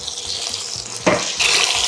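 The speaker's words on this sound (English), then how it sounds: "you immediately run running cold water on them" Cold tap water runs steadily over freshly drained noodles in a kitchen sink, a continuous close splashing hiss with a brief louder gush near the middle.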